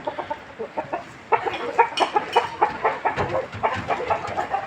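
Indian Aseel roosters clucking in a steady run of short, close calls, some sharper bursts among them, with no talk.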